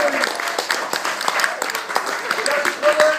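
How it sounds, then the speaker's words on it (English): Guests at a wedding reception clap during a best man speech, a lively uneven patter of many hands with voices and cheers mixed in. "Give a round of applause"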